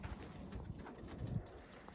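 Racing pigeons coo softly in low, murmuring bursts, faint and close, with light wind noise in the background.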